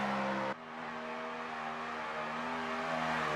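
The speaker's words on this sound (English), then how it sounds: "I hear him just laying on that throttle" A drift car engine is held at full throttle through a corner at a drift competition in Pascani, giving a steady, buzzing high-rev drone after a brief dip near the start.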